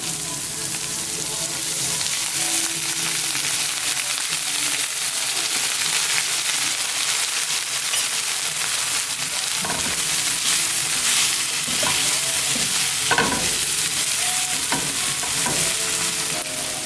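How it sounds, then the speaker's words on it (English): Vegetables fry loudly in bacon fat as a splash of apple cider vinegar goes in, a dense steady sizzle with crackling pops and occasional stirring scrapes, close and continuous throughout. "I'm going to go ahead and add in just a touch of apple cider vinegar."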